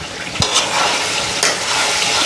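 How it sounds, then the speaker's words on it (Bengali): Spice paste frying in oil on a gas stove, a dense loud hiss and crackle filling the space, punctuated by a couple of sharp spatula knocks against the pan. "গ্যাসটা একটু বাড়াইয়া দিই, তাড়াতাড়ি মশলাটা ফ্রাই হয়ে যাবে। এটা মশলায় তেল ছেড়ে দিচ্ছে।"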